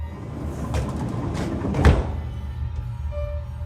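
A door closes slowly with a low creaking slide that ends in a soft thunk, heard over a steady low rumbling ambience in a horror-story setting.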